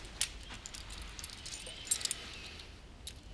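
Keys for a barn jangle briefly in a quiet indoor soap-opera scene, with a couple of light metallic clinks near the start and again toward the end, no one talking.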